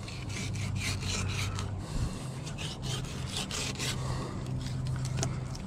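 A knife runs along the cartilage of a shark, filleting the fish as it is cleaned: a steady, close rasping scrape with repeated stroke-like pulses throughout, no talking.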